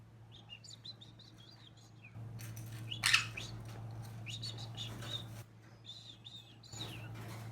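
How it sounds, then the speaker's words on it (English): A baby pineapple conure being hand fed chirps in repeated bursts of high, thin begging calls, close up, with a short louder squawk in the middle and a steady low hum underneath. "He's starting to agitate a little bit now, like a bird should when it wants feeding."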